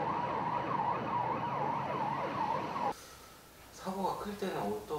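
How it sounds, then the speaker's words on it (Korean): A Korean ambulance and fire engines head out to a major accident, their sirens wailing loud and steady in a repeating up-and-down sweep, then cutting to quieter traffic noise with a fainter siren and talk. "구급차와 탱크차, 그리고 펌프차까지 나가는 걸 보니 사고가 큰 것 같습니다."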